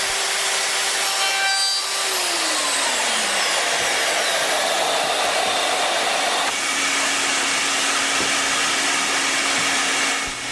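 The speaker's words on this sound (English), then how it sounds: "use a cheap trim cutter to finish the cut" A cheap trim router with a bearing-guided cutter smooths the edges of a pre-cut wooden mortise, a loud, continuous high-pitched whine with shifting cutting tones as it moves through the wood.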